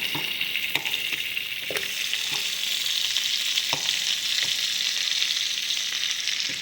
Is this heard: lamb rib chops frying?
yes